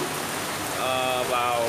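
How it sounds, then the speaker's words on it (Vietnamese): Heavy rain pours down over Saigon during storm Kirogi, a dense, steady hiss of downpour on surfaces, loud and close throughout with no break. "Hôm nay thì bỗng dưng Sài Gòn đổ một cái cơn mưa rất là lớn"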